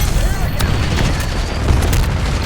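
A flashbang grenade bursts in the Black Ops 6 game, a loud, dense boom and blast washing over the scene, with sharp cracks of gunfire inside it and a voice talking over it.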